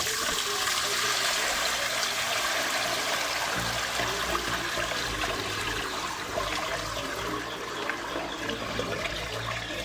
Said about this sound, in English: we're just going to fill the bucket with clean water